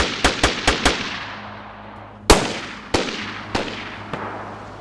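Pistol gunshots in the DayZ video game, heard from a distance: four quick cracks in a row, then four more spaced out, each sharp report trailing a reverberant echo.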